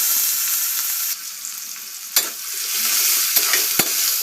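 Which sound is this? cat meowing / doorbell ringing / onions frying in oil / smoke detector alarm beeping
onions frying in oil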